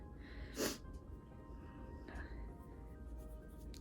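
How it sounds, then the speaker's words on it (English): A single short, sharp sneeze bursts out early, followed by a softer snort-like breath, against a quiet indoor background. "Uh-oh, I gotta sneeze."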